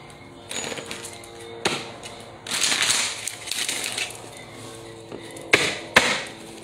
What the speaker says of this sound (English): You want me to shuffle one more time?